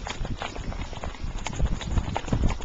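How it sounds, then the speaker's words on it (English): Horses on a trail ride walk with irregular hoof clip-clops, close and fairly loud, overlapping steps forming an uneven rhythm throughout the short stretch. "And Sue's on the best horse there"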